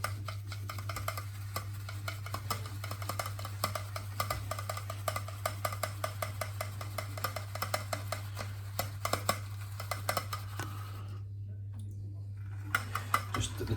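Rapid, irregular scratchy swirling and light tapping as a shaving brush is loaded with soap go on for a while over a steady low hum, then fall quiet briefly before resuming.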